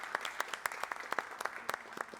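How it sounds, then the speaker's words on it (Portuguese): A small group claps at the close of a debate on budgets and public universities, with sparse, distinct individual claps in an uneven rhythm, fairly quiet and close. "Uma salva de palmas para a gente."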